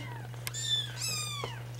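Three-and-a-half-week-old kittens give a few high, rising and falling meows close by, one after another over a steady low hum.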